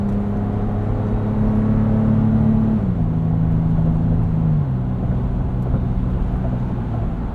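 A steady, droning engine hum from inside a moving 2022 Toyota 4Runner TRD Pro, with a low TRD exhaust tone that dips in pitch as it shifts, loud and continuous without speech.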